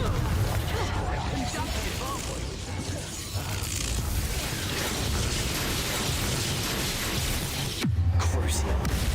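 Confringo blasting spell in Hogwarts Legacy, a dense crackling magical burst with a sharp low thump near the end, amid busy game effects and combat sounds.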